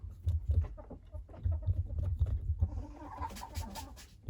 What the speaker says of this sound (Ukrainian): Що там кури? Кури, кури, кури. Кури, як завжди, їдять, б'ються, грибуться.